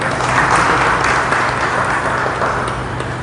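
Listeners at a devotional discourse on Lord Krishna break into steady, close, even applause that fills the hall for several seconds without letting up.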